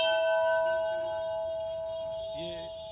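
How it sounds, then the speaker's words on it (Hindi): A metal temple bell at the Sankat Mochan Hindu mandir in Gurgaon rings once with a bright, sustained metallic tone that slowly decays over several seconds, and a voice talks faintly near the end. "ये हर मंदिर में आपको घंटी लगाई जाती है"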